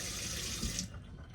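Hot water runs from a camper tap in a steady, close hiss of flowing water, then cuts off near the end.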